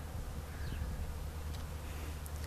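A swarm of bees hums high in a willow tree in March, a steady, dense outdoor drone held at an even level throughout, with faint wind and background noise.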